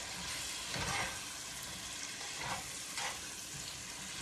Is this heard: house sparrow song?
no